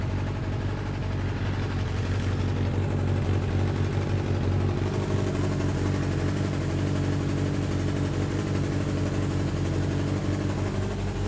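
A long-dormant Suzuki Katana motorcycle, pulled from a barn after 31 years, idles steadily with a low, even rumble that sounds slightly uneven, as if running on three cylinders, alone and at moderate level.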